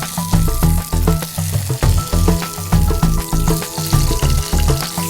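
Tomatoes go into a hot pan for hibiscus rasam, raising a loud, steady sizzle that pulses with stirring for the whole stretch, with no talk over it.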